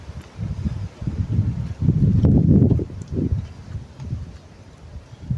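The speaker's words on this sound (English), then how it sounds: "It's a little bit windy because," Gusty March wind blows across an outdoor garden plot where muscadine grape seeds are being planted, buffeting the microphone in uneven low rushes that swell loudest midway and then ease off, with no talk.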